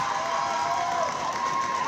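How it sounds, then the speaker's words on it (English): Spectators cheering at a roller derby bout between Durham and Birmingham, a sustained distant crowd roar with a whistle-like tone and scattered shouts. "Keep cheering for everyone"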